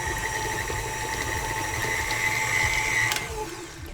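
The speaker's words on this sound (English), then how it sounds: "I'm going to whiz it around for maybe 30 seconds just to soften it up a little." An electric mixer whirs steadily as it softens butter in a mixing bowl, a continuous loud motor hum with a high whine rising slightly before trailing off near the end.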